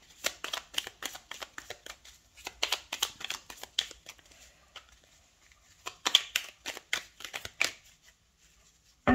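Tarot cards are shuffled and cut in a quiet room: a quick run of crisp riffling and slapping bursts, close and clear, with short pauses between, no voices.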